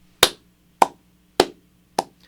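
Four sharp hand claps, evenly spaced about half a second apart, ring out alone and close by, marking out a steady four-beat pattern, with the first and third claps landing somewhat stronger.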